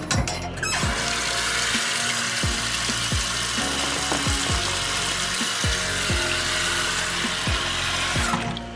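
Running water from a sink tap pours steadily while a plastic food container is rinsed in a home kitchen, with occasional clunks and knocks of the container against the basin.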